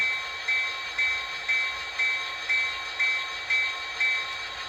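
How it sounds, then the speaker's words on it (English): A locomotive bell rings from an HO scale model train's sound system, with a regular metallic clang about twice per second, steady and moderately loud over a faint background hum. "Here's the bell."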